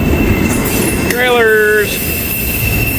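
A massive freight train working up a steep grade, its wheels letting out one loud, wavering squeal over a steady rumble and a constant high tone.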